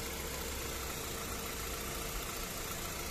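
A car with a 1.6 litre engine idles steadily in a continuous, even, moderately loud hum with no talking.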